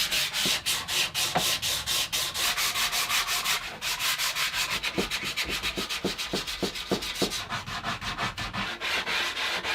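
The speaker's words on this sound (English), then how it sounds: "It's time to finish sanding this thing." Hand sanding a wooden canoe paddle: steady rhythmic back-and-forth rubbing strokes of sandpaper on wood, close and moderately quiet, continuing throughout without speech.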